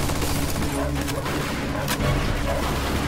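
Machine gun fire in the video game Mafia 2, a dense, continuous rattle of shots under a steady roar of battle noise, sounding somewhat distant and muffled.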